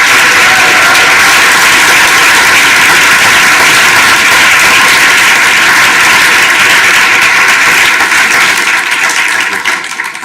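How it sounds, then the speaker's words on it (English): A conference audience gives a panel a loud, sustained round of applause, dense and steady throughout before tapering slightly at the end. "Let's have another round of applause for them, please."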